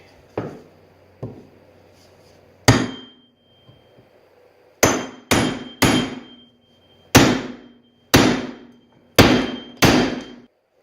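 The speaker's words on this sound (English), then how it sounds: "I'm going to use the back head of this roofing hammer" The back head of a roofing hammer strikes a railroad spike with sharp ringing clanks: a few scattered hits, then a steady run of six or seven loud blows, near and alone.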